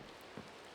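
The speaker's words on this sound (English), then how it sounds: "It's very dark and rainy out here" Steady rain patters in Minecraft on a dark night, a soft, even hiss of falling drops heard alone and fairly faint.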